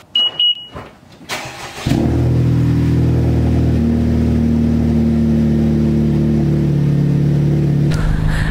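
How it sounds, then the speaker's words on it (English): A Honda Civic Type R cold start: a few short beeps, then the engine cranks and catches with a loud rev before settling into a steady, high fast idle, heard up close. "I know you guys haven't heard a cold start in a while,"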